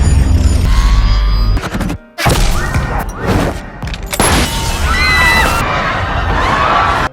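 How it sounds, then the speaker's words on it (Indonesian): Sharp gunshots crack out over a noisy, screaming crowd in a film action scene, with a brief sudden drop in the din before the chaos returns. "Alhasil, demi menyelamatkan Kurumi, Saeba terpaksa melepaskan tembakan di tengah kerumunan."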